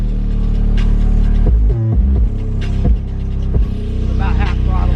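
A GMC Sierra pickup engine held at about half throttle, a steady low rumble with a few brief shifts in pitch and some clunks, close and fairly loud throughout.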